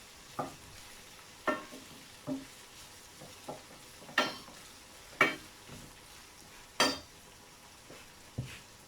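Onion and fresh seasoning sizzle steadily in a pan while a utensil stirs and scrapes in periodic sharp clinks, close by, with no talking.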